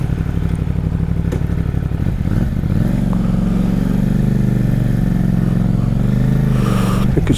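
A CFMOTO 450 SRS sports motorcycle is ridden at steady speed, its engine a continuous droning hum that shifts pitch around mid-ride and holds a loud, even note to the end, with some clatter and thuds over it.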